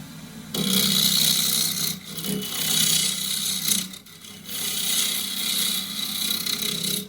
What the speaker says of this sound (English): So off the bottom, 1/2 inch spindle gouge, 1/2 inch flute.